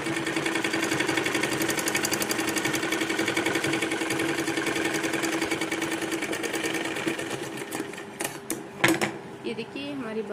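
A sewing machine runs steadily while stitching a frilled sleeve, a fast, even mechanical chatter that holds for most of the stretch before stopping near the end, followed by a few sharp handling knocks.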